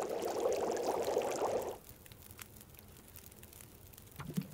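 Tea pours in a steady liquid stream for under two seconds in the survival game The Long Dark, then cuts to a quiet room tone with a soft clunk near the end.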